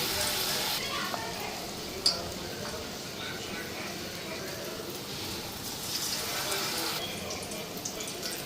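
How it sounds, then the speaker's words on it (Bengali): Bitter gourd and eggplant slices frying in oil, a steady soft sizzle with occasional clinks of a utensil against the pan and a voice talking quietly in the background. "এই যে তিতা করলা ভাজছি"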